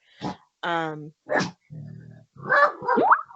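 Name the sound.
dog barking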